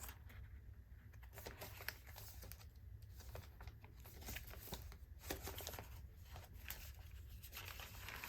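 Pages of a paper bag junk journal being flipped through, with rapid soft papery rustles and flutters close to the microphone, faint and heard alone without talk.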